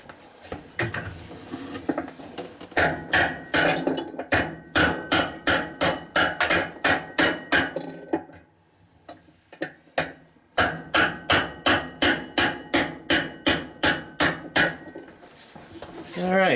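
Sharp, loud hammer blows strike in quick runs during a GE washer tub seal replacement, first in a long burst, then a brief pause, then another steady run of hits.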